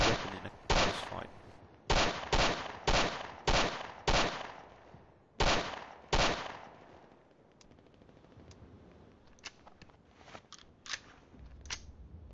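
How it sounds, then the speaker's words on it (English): A 9mm pistol with a 13-round magazine fires in the MN 1.4 game, loud sharp shots spaced about a second apart, then after a pause a quieter scattered series of distant pops and clicks. "It fires a 9mm round and has a magazine capacity of a whopping 13 rounds"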